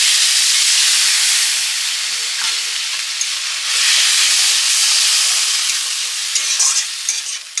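Loud, steady sizzling and hissing as chili-turmeric water hits frying spices in a pan for a Bengali fish curry, with stirring scrapes and bursts of steam throughout, no voices.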